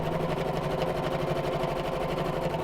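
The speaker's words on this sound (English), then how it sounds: "Right, I'm going to sew around the edge of the flaps." A sewing machine stitching around the edges of bag flaps, its needle running in a fast, even, steady rhythm with a low motor hum, close and continuous without any talking.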